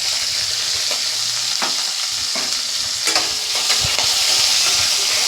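Bay leaf and black cumin frying in hot oil for a rohu fish head curry: a constant close sizzle, with a few soft stirring scrapes over it and no speech.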